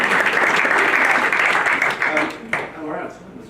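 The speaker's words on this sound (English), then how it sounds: "A round of applause" A panel discussion audience breaks into loud, dense applause that holds steady, then thins and fades over a few seconds, with a voice speaking over it.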